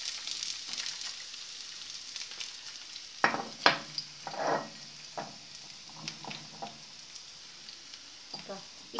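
Chopped onion frying in preheated oil in a home kitchen, with a continuous sizzle and crackle that swells in bursts as the pieces are stirred, close and moderately quiet.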